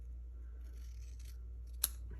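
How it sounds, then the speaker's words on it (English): Scissors make a single crisp snip as a side tab is trimmed off a paper card, a short sharp cut standing alone against quiet background hum. "I'm actually going to just trim off both of these side tabs"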